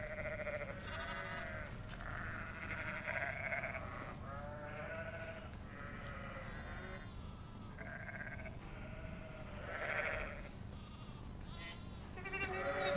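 Several sheep bleating in a warm barn where ewes with lambs are kept, overlapping wavering calls rising and falling over about thirteen seconds at moderate distance, with a steady low room hum beneath.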